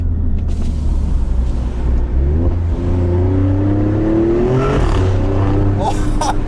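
Alfa Romeo Stelvio Quadrifoglio SUV revving hard on a road, a loud raspy engine note climbing through gears inside the cabin, with a voice talking over it.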